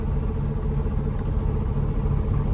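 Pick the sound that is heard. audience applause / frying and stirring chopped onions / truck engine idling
truck engine idling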